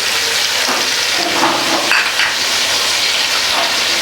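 Beef karahi with tomatoes and spices such as handi masala, salt, crushed coriander and garam masala frying in a pot: a steady, loud, close sizzle with faint stirring scrapes.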